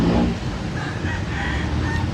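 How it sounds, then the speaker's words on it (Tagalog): Chickens cluck and a rooster crows amid a busy, continuous barnyard din, fairly close and steady throughout. "Pakain tayo ng ating mga manok, painom at kunting himas."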